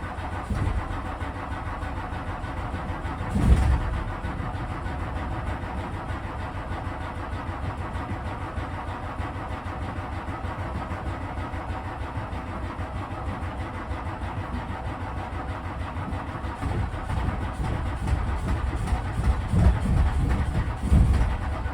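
A blue MK2 Volkswagen Golf GTI 16v cranks and fires into a steady mid-pitched idle that runs on close by, then takes a few short blips of throttle near the end.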